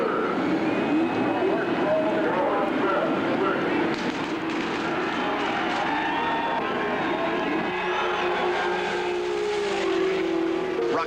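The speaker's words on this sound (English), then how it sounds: "Engines snarl to life, crews stand at the ready" Indianapolis 500 race cars at the 1989 race growl loudly as the field rolls away behind the pace car, a dense continuous engine roar mixed with crowd noise and a voice talking over it.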